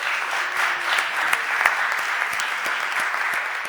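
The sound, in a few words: round of applause at council meeting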